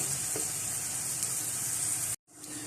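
Dahi bhalla made from mash (urad) lentil batter frying in hot oil, a steady, close, even sizzle that runs without a break and then cuts off abruptly near the end before quietly resuming.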